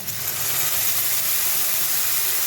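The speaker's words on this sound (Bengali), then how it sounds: "কচুরলতিগুলো হালকা করে ভেজে নিয়েছি। এবার দেবো সর্ষে বাটা।" Mustard paste hitting a hot pan of lightly fried taro stolons, giving a loud, continuous, close hissing sizzle with no talk.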